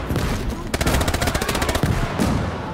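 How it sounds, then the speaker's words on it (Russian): Rapid bursts of loud, dense gunfire rattle almost continuously through a video game battle in a Soviet dynamic campaign with fog of war, where an RGD grenade is thrown at clustered enemy guns, with heavy booms mixed into the shooting. "вот это была граната."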